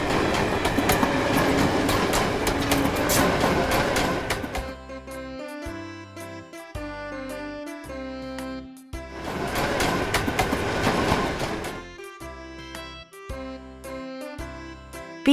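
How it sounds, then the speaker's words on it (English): A London Metro train runs past with rhythmic clattering on the rails, broken up by stretches of a tonal, musical-sounding passage in between. "London Metro."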